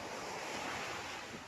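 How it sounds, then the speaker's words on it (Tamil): Sea waves wash onto a beach in the evening, a broad, continuous roar of surf mixed with wind buffeting the microphone, steady and fairly close with no voices. "அந்த கடல் அலை ஓசை அவ்வளவு சிறப்பு"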